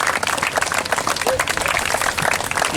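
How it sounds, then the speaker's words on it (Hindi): Applause from an audience at a village religious gathering welcoming a guru, dense continuous clapping with a crowd murmur throughout, fairly loud and steady. "ये हमारा प्रयास है कि तालियां बजते हैं"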